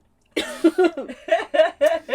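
A person coughs in a quick series of short, close bursts, roughly six in a row after a moment of silence.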